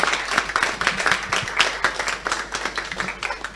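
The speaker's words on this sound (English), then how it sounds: "Let's give them a warm round of applause." Audience applause at a Rotary Club inauguration and installation ceremony, a room full of irregular hand claps at moderate distance, steady throughout a few seconds.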